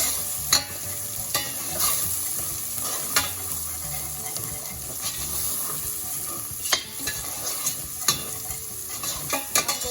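Hing (asafoetida) frying in butter for a red kidney bean curry, a loud continuous sizzle broken by repeated sharp scrapes of a spoon stirring the pan, with no talking.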